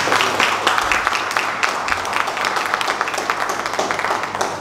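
Indoor workshop audience claps for volunteers, a steady, dense patter of many hands lasting throughout at moderate loudness.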